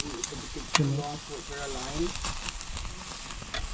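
Squid and meat sizzle on a Japanese surplus griller, a steady crackling hiss under a person talking, with a brief sharp clatter near the start.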